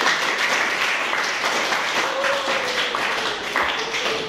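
An audience applauds steadily for about four seconds at the end of a university sociology lecture, a dense even wash of clapping with a faint tone running under part of it.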